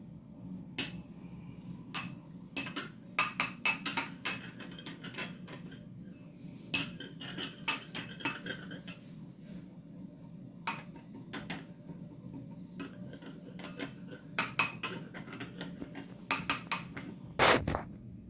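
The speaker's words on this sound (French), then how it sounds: "Il faut prendre un petit verre pour bien étaler les biscuits en bas." A metal spoon clinks and scrapes inside a small glass while biscuits are spread in the bottom for a chocolate-pistachio verrine, with rapid, irregular light taps and clatters, close and fairly quiet.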